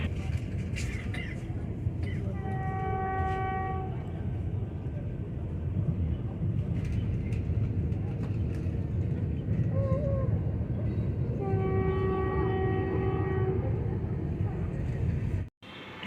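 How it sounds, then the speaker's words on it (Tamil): Steady low rumble and rattle of a Vande Bharat train in motion past Erode station, heard from inside, continuous throughout, with faint tonal whines rising briefly above the noise. "ரயில் கிளம்பி ஈரோடு ரயில்வே ஸ்டேஷன் தாண்டி ஜம்முன்னு போய்கிட்டு இருக்குதுங்க"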